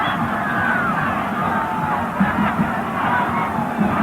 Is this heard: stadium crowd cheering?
yes